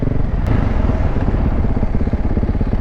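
A motorcycle engine running on a motocross track, with a loud, steady, close-up rumble and a rhythmic low pulsing throughout.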